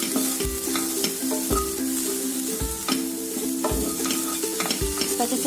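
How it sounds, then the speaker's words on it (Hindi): Potato samosa filling is stirred with masala in a hot pan, a regular rhythm of spatula scrapes and knocks over a soft sizzle, close and without speech. "इसको अच्छे से मिक्स कर लेते हैं मसाला के साथ।"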